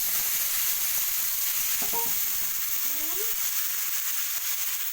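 Tomatoes frying in hot oil for a tomato chutney, a continuous sizzling hiss with brief clinks and scrapes of stirring, and faint voices briefly in the background.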